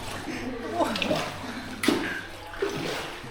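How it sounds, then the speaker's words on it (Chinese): Water drips and trickles from stalactites inside Dot Cave, a long, narrow, cool limestone cave, with scattered soft splashes and a few sharper drops echoing over a low murmur of voices. "這洞穴裡面有很多鐘乳石，還在往下滴水"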